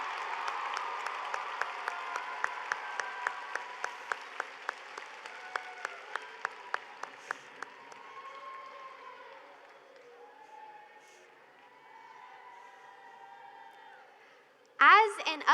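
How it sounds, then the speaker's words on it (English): Applause from FFA members at a state convention session, fairly sparse clapping with distinct individual claps that thins out and dies away into quiet room tone, followed by a brief loud burst at the very end. "FFA members, let's give them one big round of applause."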